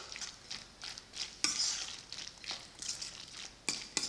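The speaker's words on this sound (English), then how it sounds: "I try to get that egg yolk combined with the mayonnaise" Egg yolk and mayonnaise are stirred together for tuna egg salad, with soft wet scraping strokes and occasional sharper clicks of the utensil against the bowl, repeating in an uneven rhythm at close range.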